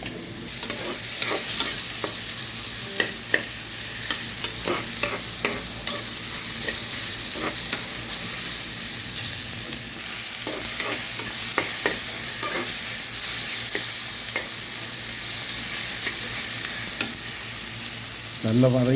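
Tomato and carrot sautéing in a pan, a continuous close sizzle broken by frequent spatula scrapes and stirring clicks, with no talk.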